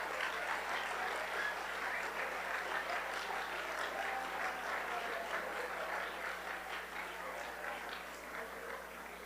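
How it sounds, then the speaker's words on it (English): Students at a school senior-events assembly applaud a departing staff member, a broad, even wash of clapping from a large crowd that carries on for several seconds before easing slightly toward the end. "like us all to give Ms. Raft a round of applause."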